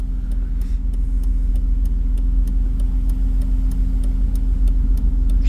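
A loud BMW E46 widebody car engine idling with an open exhaust, a steady low rumble that continues without a break.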